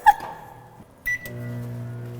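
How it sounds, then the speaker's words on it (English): A microwave oven heating water to boiling gives a couple of short electronic beeps, then settles into a steady, moderately loud droning hum with no voices. "Pour out about half a cup of your total water volume and microwave it until it's boiling."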